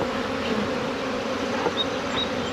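Honey bees buzz around a beehive during a cold spring, forming a steady, close droning hum, with individual bees' higher whines briefly rising and passing over it.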